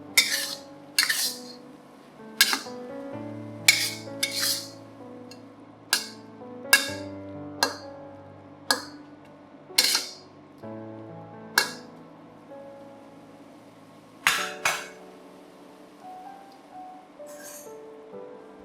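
Mussels tossed with soy sauce and sugar for a Chinese stir-fry clink and clatter as they are mixed, a series of sharp, bright knocks and shell-on-pan taps at irregular intervals against a quiet background.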